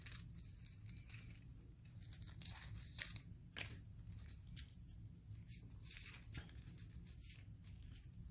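Faint, close snips and crinkles of scissors cutting foil pieces for rock foiling, coming in irregular bursts with some crisp rustling in between, quiet and with no one talking.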